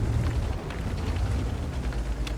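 Tank cannon fire in a tank battle game with the 60TP tank, a steady dense low rumble with faint crackling bursts, no voices.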